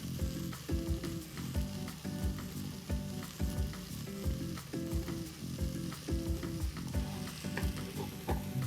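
Cured Italian charcuterie frying together with tomato in a pan, a steady loud sizzle with scraping stir strokes recurring throughout, no voices.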